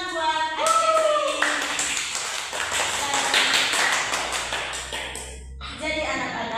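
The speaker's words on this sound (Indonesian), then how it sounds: "tepuk tangan buat adik-adik" Children in a classroom clap for their classmates, a dense burst of many hands clapping together for a few seconds, with voices heard before and after.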